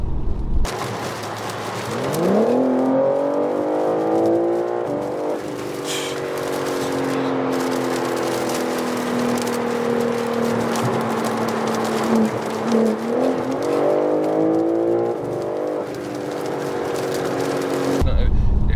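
A BMW M3 G80 Competition engine (S58) roars as it accelerates through several gears, pitch climbing and dropping at each shift, heard from inside the cabin.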